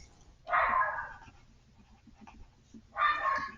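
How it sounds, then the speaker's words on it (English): A dog barks in two short bursts a couple of seconds apart, muffled and fairly distant, with a quiet room in between and no talking over it. "my dog is barking in the background"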